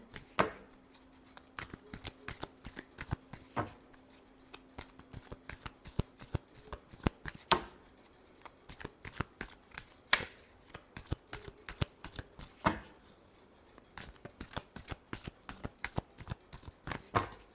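Tarot cards are shuffled continuously for a love reading, with soft, dense papery flicks and snaps repeating throughout, fairly quiet and close, with no talking.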